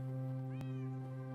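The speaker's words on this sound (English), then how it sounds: "I heard that meow" A single Minecraft cat meow rises and falls clearly over a steady low background tone, with one sharp click midway and no speech.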